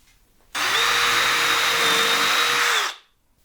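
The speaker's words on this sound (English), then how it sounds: "always drill pilot holes first" A power drill bores a pilot hole into a wooden board for a screw, a single loud high whir that starts abruptly, holds steady for about two and a half seconds, then winds down, with no talk.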